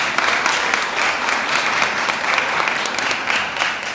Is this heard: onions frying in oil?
no